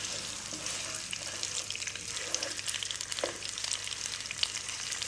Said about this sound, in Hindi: आधा किलो हड्डी वाला बकरे का गोश्त। तेज आंच पर 5 मिनट के लिए भूनूंगी।